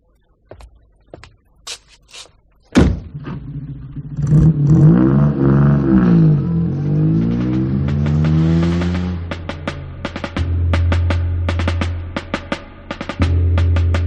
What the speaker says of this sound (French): Il est à peine parvenu en son milieu qu'une voiture le rejoint.